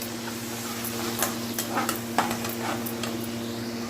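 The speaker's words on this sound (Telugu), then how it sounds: "ఇప్పుడు దీన్ని మనం బాగా ఫ్రై చేద్దాం" Food sizzles steadily in a pan with soy sauce and vinegar, close and continuous, while a utensil stirs and scrapes with a few sharp clicks.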